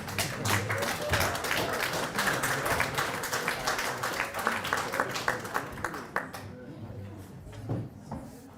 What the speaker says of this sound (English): can we have a round of applause for this momentous occasion?